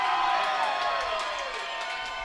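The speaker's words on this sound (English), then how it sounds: "the crowd cheering on their swimmers, trying to pump everything up" Indoor crowd at a college swimming championship cheering and shouting loudly in a continuous, echoing roar, with a voice talking over it.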